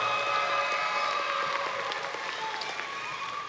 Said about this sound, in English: I want to give another round of applause to the salutatorian, Precious Craddock, and the valedictorian